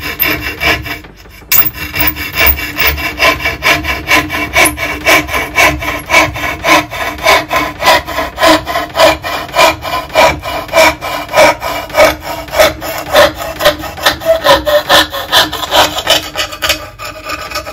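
A restored bow saw cuts wood in fast, rhythmic back-and-forth rasping strokes, loud and close, continuing steadily after a brief pause near the start, with no talking.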